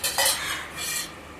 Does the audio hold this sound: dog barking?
no